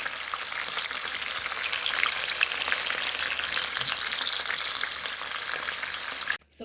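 Fish browning in hot oil in a pot, giving a steady, close, dense sizzle and crackle throughout with no voices, stopping abruptly at the very end.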